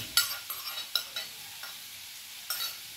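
Beetroot halwa with ghee-fried dry fruits being stirred and sautéed in a pan: soft, quiet scraping strokes and light sizzling, with a few sharper clinks of the spoon spaced through the stirring.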